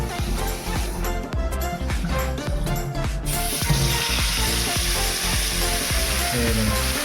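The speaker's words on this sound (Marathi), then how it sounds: "फ्राय करण्याची तयारी करत आहोत. तेल गरम करत ठेवलं आहे तव्यावर." Marinated bangda (mackerel) frying in hot oil on a tawa: a steady, close sizzle takes over midway and holds to the end, with some clatter underneath at first.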